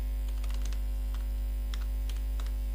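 Keystrokes on a computer keyboard during Python coding, a handful of light, irregular clicks in short bursts over a steady low electrical hum, with no talking.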